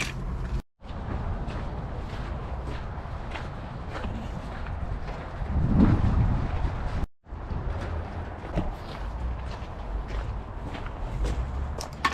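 Footsteps walking around an outdoor junkyard, a steady run of crunching steps over continuous ambient noise, with one heavier thud midway and a brief break in the sound.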